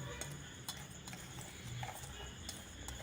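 Faint, close stirring of sugar and rava (semolina) together in a pan, with soft scraping and scattered light taps of the utensil against the vessel, no speech.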